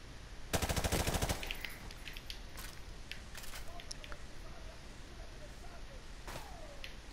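Enemy gunfire in Call of Duty Modern Warfare Remastered: a loud rapid machine-gun burst up front, then scattered single shots and faint pings over quiet ambient game noise.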